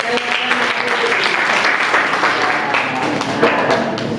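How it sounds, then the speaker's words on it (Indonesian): Classroom applause during a university teaching-performance session: a dense, steady patter of many hands clapping together, loud and unbroken for about four seconds. "tepuk tangan dulu Pak"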